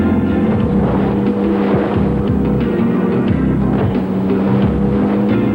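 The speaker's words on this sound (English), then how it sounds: "Obviously, these personal hovercraft aren't intended to tackle the high seas." A personal hovercraft's engine runs steadily over calm water, a continuous loud droning roar with wind buffeting, alone without talk.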